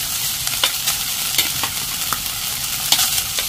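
Oil sizzles in a cast iron pan with a steady bright crackle, punctuated by scraping taps of a utensil every half second or so, close and clear with no talking.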